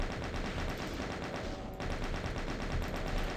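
A chaingunner enemy in a first-person shooter video game fires its chaingun in a dense, unbroken rattle of rapid shots that stays loud and steady throughout, with no talk.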